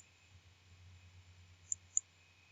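Two quick, crisp computer mouse clicks sound close together near the end, faint and close, over a quiet low hum.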